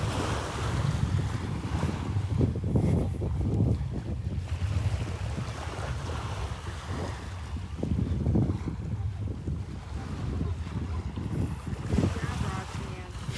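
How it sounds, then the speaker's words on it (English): Breezy east wind buffets the microphone on a walk along Delnor-Wiggins beach, a steady low rumble with gusts and surf beneath it, and people talking intermittently over it. "Breezy up here. Wind coming out of the east."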